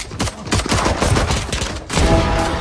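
Dense rapid gunfire from a deployed turret in a tactical shooter match, loud and continuous with a brief gap before a heavier burst resumes, without voices.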